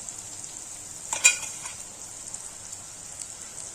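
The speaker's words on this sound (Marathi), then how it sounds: "आता हे वाटण घालू याच्यामध्ये।" Ground spice paste tipped into a pan of softened onion and tomato for a cowpea and fenugreek curry, giving one brief burst of sizzling that settles into a soft, steady fry.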